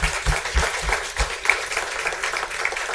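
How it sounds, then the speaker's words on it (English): An audience applauds a panel of media industry speakers at a strategy and planning summit, a steady, dense wash of clapping that holds evenly for a few seconds without speech over it. "So a big round of applause."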